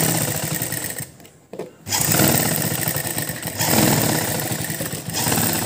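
A sewing machine stitches a blouse sleeve onto the bodice in steady motorized runs, with a short pause partway through before the whirring resumes, fairly loud and close.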